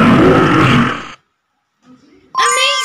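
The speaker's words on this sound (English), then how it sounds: "Lion!" A cartoonish lion roar bursts out loud at the start and fades after about a second, followed by a pause and then a bright chime from a kids' animal-sound game.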